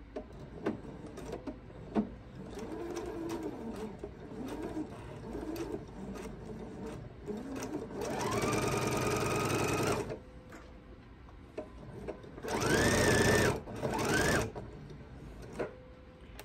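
A sewing machine runs in two sustained bursts of steady whirring as it stitches diagonally corner to corner across quilt binding, close and loud, with quieter handling sounds between runs and no talk.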